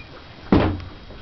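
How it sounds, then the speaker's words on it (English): A room door in a house swings shut with a single solid thunk at close range, followed by a brief faint click and quiet room tone. "I'm locking this room door"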